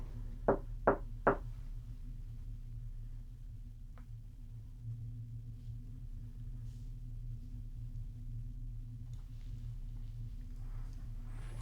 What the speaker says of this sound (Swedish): Kan du knacka så här på dörrarna?